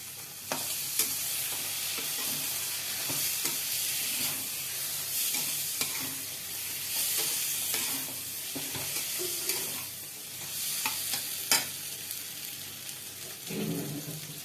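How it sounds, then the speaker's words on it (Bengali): Chilli chicken with tomato sauce is stirred in a sizzling pan, a continuous frying hiss overlaid with repeated scraping strokes of a spatula, steady and close with no talking. "আর টমেটো সস ঢেলে দেবো। এটাকে নাড়াচাড়া করবো।"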